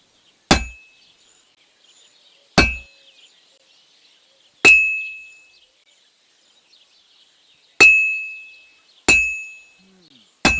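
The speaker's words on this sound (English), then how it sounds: "I have to hammer it more evenly." Hammer blows on hot metal at a blacksmith's forge in Kingdom Come Deliverance 2, six sharp ringing clangs spaced a second or two apart, each with a short metallic decay, over a faint insect-like background.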